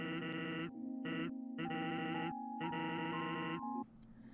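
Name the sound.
goat bleating in a JRPG video game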